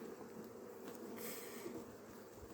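Honeybees buzz steadily around a hive as two weak colonies are merged into one, a soft continuous drone of many wings close by with no talking.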